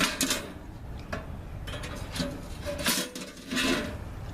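A metal grate is pulled out of a Winnerwell Nomad medium tent stove, giving a series of rasping scrapes and clanks, close and fairly quiet, with short pauses between the movements.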